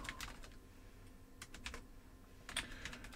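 Computer keyboard typing while writing code for a Sega Mega Drive game in SGDK, quiet irregular clusters of keystrokes with brief pauses and a small burst of clicks near the end, no talking.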